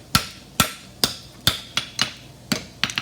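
A farrier's hammer strikes horseshoe steel while scarfing a heartbar shoe, ringing out in about nine sharp, evenly spaced blows on the anvil, loud and close, with a quick flurry of lighter taps at the end.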